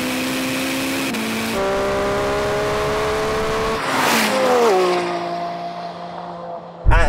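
A Lamborghini Revuelto or Ferrari supercar launches in a drag race, engine revving hard, pitch climbing through gear changes, then surging again before cutting off sharply at the end.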